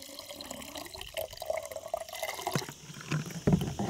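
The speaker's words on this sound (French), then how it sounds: "Alors à présent, je verse mon eau glacée." Iced water poured into homemade lemonade, a close liquid splash and trickle that builds in the second half, with a few sharper sloshes near the end and no talking.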